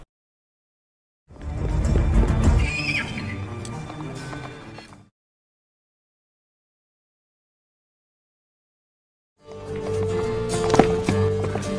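A horse runs with galloping hoofbeats in two separate bursts, a few seconds of pounding near the start and another near the end, with silence between them.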